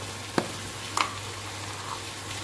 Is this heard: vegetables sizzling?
yes